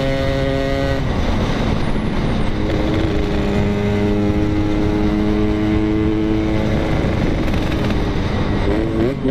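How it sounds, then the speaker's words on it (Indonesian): A loud Honda Vario motorcycle engine revs and rises in pitch, its steady harmonic drone shifting as the throttle opens and eases, close by and continuous. "Jadi kalau ambil gas turun ngegas lagi tuh gak kosong gitu, Fred."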